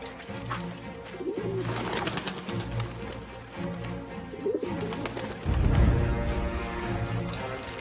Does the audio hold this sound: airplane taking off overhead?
no